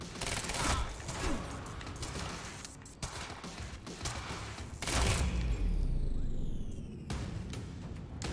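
Gunfire in the video game Quantum Break, dense bursts of shots and booming impacts mixed with mechanical clanks and effects, loud and continuous.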